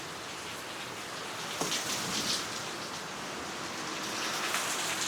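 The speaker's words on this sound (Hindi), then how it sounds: "हालांकि बारिश तेज़ हो रही है।" Steady, dense hiss of heavy rain pouring down and pattering on surfaces, constant and enveloping with no let-up and no voices.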